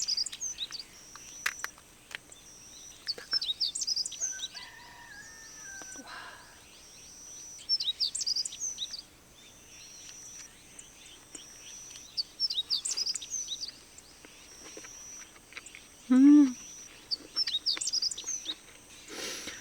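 Birds chirp and tweet intermittently at a campsite in Hoengseong, short repeated high calls near and far scattered across a quiet rural background, with faint insect sounds and no clear talk.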